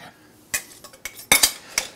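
Avocados are cut up with a knife, giving a handful of sharp, brief clicks and taps against a hard surface, spaced irregularly over quiet.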